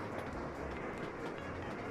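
A train runs on rails in the Sweet Transit railway-building game, giving a continuous, faint rumbling roll with a soft rhythmic clatter and no voices.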